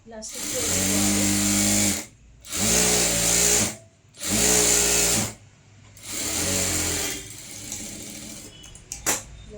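Sewing machine stitching a blouse, four sustained motor runs of about two seconds each separated by short pauses, then softer handling noise and light taps, close and steady in pitch.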